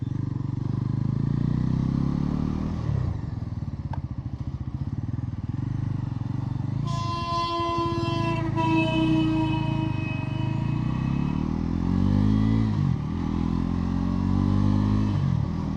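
Bajaj Pulsar NS 400Z 2025 motorcycle being ridden on a road with loose brick rubble, its engine droning steadily and close throughout with a brief rising whine partway through, no talk.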